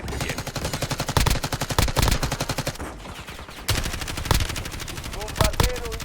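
Rapid automatic gunfire in a Call of Duty-style Resurgence match, loud bursts of steady rhythmic shots that pause briefly midway, then resume with a few sharper single cracks near the end.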